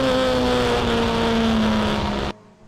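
Honda VTEC Challenge race car engine at Snetterton, a loud sustained high-revving note that holds steady then cuts off sharply near the end as the car passes into Riches corner.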